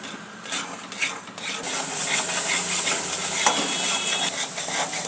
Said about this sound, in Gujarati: હવે એને સારી રીતે મિક્સ કરીશું. જ્યાં સુધી ખાંડ ઓગળે નહીં ત્યાં સુધી એને મિક્સ કરતા રહીશું.